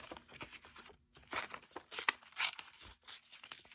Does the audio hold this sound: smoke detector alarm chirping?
no